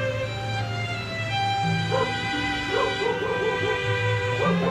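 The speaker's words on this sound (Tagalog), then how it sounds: "Ang ingay ng aso!" A dog barks and yips in short bursts over a steady, loud harmonic drone, the barks close and repeated in an uneven rhythm.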